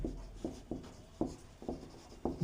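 Chalk or marker writing on a board during a maths lesson on cube volumes, heard as a series of short, separate scratching strokes in a quiet room, up close and with no voices.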